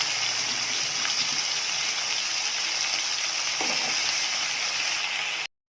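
Potatoes and softened onions frying in a pan for a brinjal and potato poriyal give a steady, loud broadband sizzle with light stirring scrapes, no talking.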